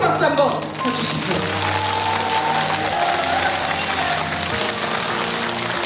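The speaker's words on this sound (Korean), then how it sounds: "뜨겁게 박수 한번 쳐주십시오" An audience claps for staff at a senior job-training session in a community centre hall, a steady wash of applause running throughout with a low murmur of voices beneath it.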